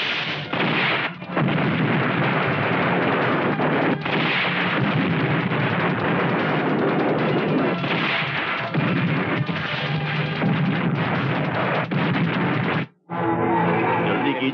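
A shootout in the climax of the Hindi action film Jai Vikraanta brings dense, sustained gunfire with heavy bursts packed together almost without a break, dropping out briefly just before the end.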